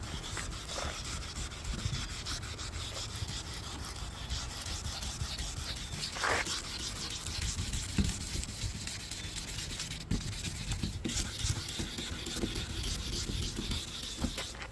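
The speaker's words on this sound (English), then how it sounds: "let the sandpaper do the work." Steady, continuous rasping of sandpaper rubbing back and forth on a 2015 Honda CR-V headlight lens, close up and fairly even in loudness throughout.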